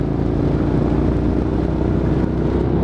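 Motorcycle ridden on a road near Prather, California, its engine holding a constant loud drone with wind and road rumble close by, unbroken and with no one speaking.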